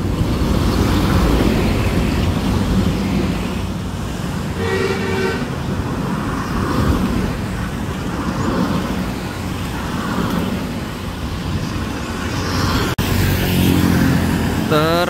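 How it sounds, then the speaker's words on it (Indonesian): A Sinar Jaya bus rolls along a busy road in Slawi amid steady traffic rumble, with a couple of bright, tonal horn blasts cutting through and voices talking over the scene. "ada bis Sinar Jaya"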